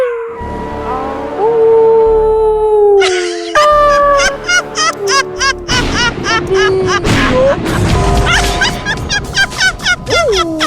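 Spooky background effects for a comedy sketch: long mournful dog howls at first, then a string of rapid, loud, echoing cackles like a ghostly laugh, with another howl near the end.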